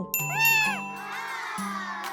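A short, bright cat meow sounds over a soft chime, with a faint tonal hum continuing after it.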